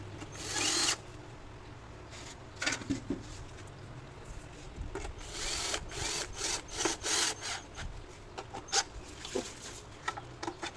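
Bolts on an automatic transmission oil pan are run down with a power tool at a transmission service shop, short bursts of close, loud whirring repeated again and again, spaced out by brief pauses.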